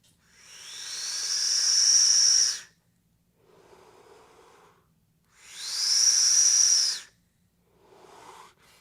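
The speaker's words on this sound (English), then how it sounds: "Wide open, it's got a little bit of a whistle in it with this coil head." Two long inhales on an Advken Owl e-cigarette with airflow wide open, each carrying a loud, steady high whistle from the coil head, separated by softer hissy exhales.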